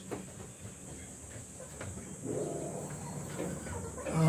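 Rhode Island chickens cluck on a small breeding farm, soft scattered calls over a hissy outdoor background, growing a little louder toward the end.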